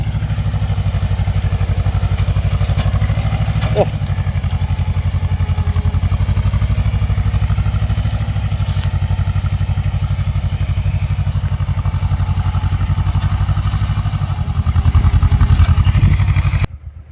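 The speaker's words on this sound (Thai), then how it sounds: "ประหยัดน้ำมันครับสองสูบ มาแล้วครับ เร็วมากนะ ใช้เกียร์สองครับ ในการไถ" A two-cylinder tractor ploughs about 20 cm deep in second gear with the throttle nearly wide open. Its loud, steady engine chugs for the whole stretch, with an occasional thud and a heavier surge near the end, and no voices.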